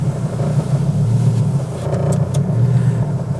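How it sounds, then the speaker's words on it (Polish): A five-cylinder Fiat Coupe track car engine idling with a deep, steady rumble, heard up close from inside the vehicle, with a few faint clicks partway through. "Palimy maszynę, 5 cylindrów, silnik."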